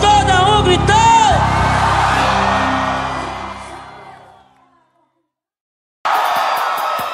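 Concert crowd shouting and cheering at a live Brazilian show, a loud broad roar that swells and then fades to silence, with another burst of loud crowd noise starting near the end.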